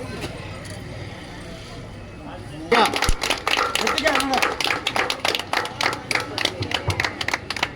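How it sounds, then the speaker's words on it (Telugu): A gathering at a Shani temple in Chayapuram, Ramachandrapuram mandal, Tirupati district, breaks into loud, steady rhythmic clapping after a few seconds of quieter background murmur. "చప్పట్లు"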